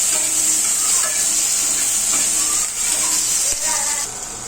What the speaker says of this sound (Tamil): இந்த மாதிரி அதே மாதிரி தக்காளி வெங்காயத்தை ஃப்ரை பண்ணி எடுத்துக்கணும்